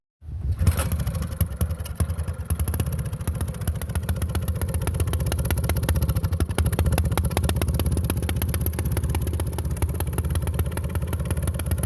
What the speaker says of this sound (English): now it's about time to see what this thing sounds like